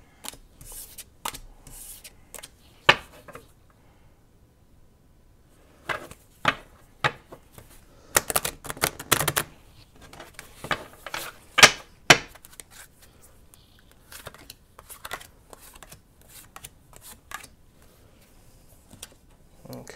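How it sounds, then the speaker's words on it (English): Tarot cards being shuffled and drawn by hand, with scattered sharp riffles, slaps and bursts of card handling spread unevenly across the clip, fairly close and with no talk over them. "We're going to draw 5 more cards. Let me put these aside."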